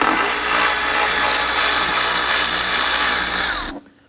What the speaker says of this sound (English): Using our socket and our driver, we're going to loosen and remove this.